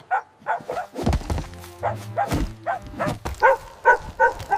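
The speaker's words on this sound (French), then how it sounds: "Le chien aboya courageusement." A dog in an animated fairy tale barks bravely against a witch who threatens to turn it to stone; short repeated bark-like bursts sound against low thumps and a music bed, with no speech.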